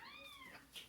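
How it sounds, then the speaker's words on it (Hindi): A cat meows clearly indoors in a short, rising-and-falling call, close and fairly loud, followed by a brief higher chirp. "बिल्ली लेके आई है"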